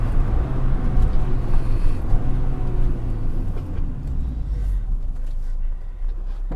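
A car engine during a heel-and-toe downshift with rev matching in fourth gear under smooth braking: a steady, close, low mechanical rumble that holds fairly even throughout with slight swells in pitch and level.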